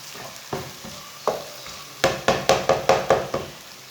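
Garlic frying in a pan for an aloo chicken dish gives a steady sizzle broken by a run of sharp spatula knocks and scrapes, sparse at first and then quickly repeated, close and fairly loud, with no talk.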